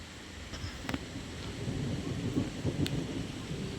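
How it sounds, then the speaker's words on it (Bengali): Heavy rain pours down during a sudden storm, a steady dense hiss with low thunder rumbling beneath and a couple of sharp cracks standing out, sounding close and fairly loud. "দেখো কতটা বৃষ্টি পড়ছে"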